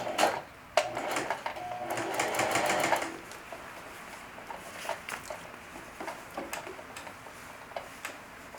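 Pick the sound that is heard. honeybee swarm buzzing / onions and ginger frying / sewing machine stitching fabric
sewing machine stitching fabric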